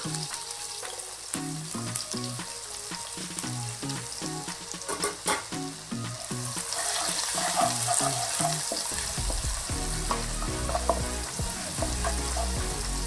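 Chopped onions fry in oil with cumin in a pan for a horse gram upma, sizzling steadily with stirring scrapes and taps throughout, growing louder and hissier partway through.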